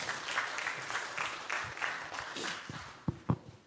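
Congregation applauding during a church service to welcome the head pastor, a steady patter of clapping with a few louder claps near the end.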